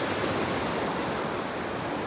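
Sea water bubbling and foaming near the shore at Bucana, Batangas, a steady broadband hiss and fizz running unbroken and fairly loud throughout, with no talk.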